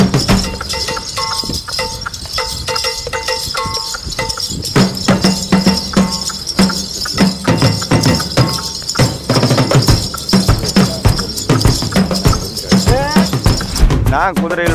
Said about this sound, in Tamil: இது வந்து காட்டைவாடி குதிரைன்னு சொல்லுறீங்க